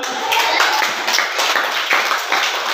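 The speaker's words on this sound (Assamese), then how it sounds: "এটা হাত চাপৰি বজোৱা।" Children in a classroom clap their hands together in a dense, continuous, close round of claps lasting throughout, fairly loud with a faint voice underneath.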